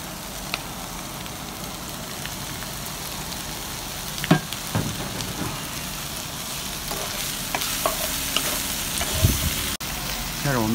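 Green and red peppers sizzle and fry steadily in a hot pan alongside beef ham sausage, with occasional stirring clinks and scrapes, close and continuous with no talking.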